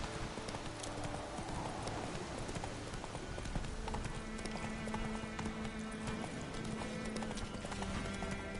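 Roach, a horse in The Witcher 3, clip-clops along at a steady gait, with rhythmic hoofbeats over low ambient game sound and a faint hint of a whinny.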